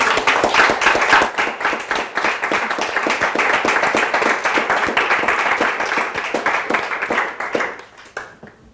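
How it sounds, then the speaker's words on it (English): A large audience at a climate talk on COP-21 claps loudly and steadily, a dense and continuous applause that lasts several seconds before quickly fading out at the end. "So I would like to give you a round of applause."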